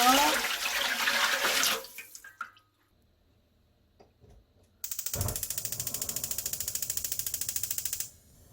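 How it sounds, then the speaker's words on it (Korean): Water is poured and splashes briefly while making brown rice gochujang, then a pause, followed by a steady rapid ticking like a stove igniter clicking for a few seconds. "물을 부어 볼게요."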